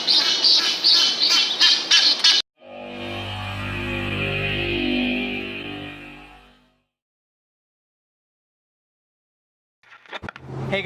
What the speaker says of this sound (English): There's a hurt duck over here.